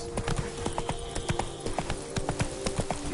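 Roach, a horse in a video game, galloping with rapid rhythmic hoof clops on firm ground, close and steady throughout the short stretch, with no talking.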